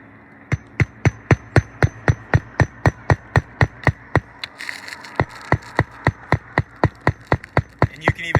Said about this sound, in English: You can even see he's swinging the hammer in a little bit a different way just to accommodate not lifting that shingle up as much as he can.